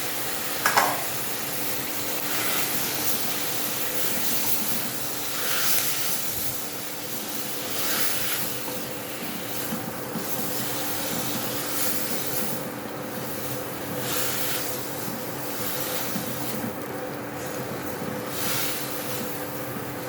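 Three tomatoes frying and being stirred in a pan while cooking salona chicken, a continuous soft sizzle with periodic scraping swells of stirring, close and moderately quiet throughout.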